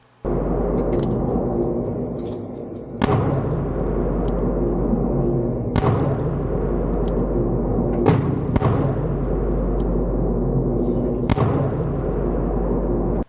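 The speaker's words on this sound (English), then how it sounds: "here you see the first 5 shots I took with a 44 Special." A Taurus Tracker revolver with a 2.5-inch barrel firing .44 Special rounds outdoors, several sharp shots spaced a few seconds apart over a steady low background rumble.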